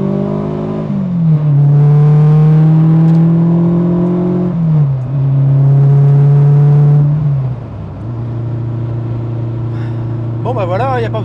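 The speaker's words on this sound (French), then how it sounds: "on va pas dire qu'il ronronne mais il rugit bien derrière quand même" A car engine roars hard under acceleration, rising in pitch through a long pull, dropping briefly at a gear change and climbing again before easing to a steadier drone; loud and close throughout.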